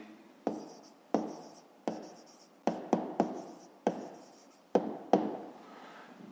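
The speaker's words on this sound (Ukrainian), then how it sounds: "Ну що ж, зараз записуємо відповідь." A pen writes out the answer to a fifth-grade math exercise on paper, giving a series of close, distinct taps and short scratching strokes at an irregular pace, with no talking.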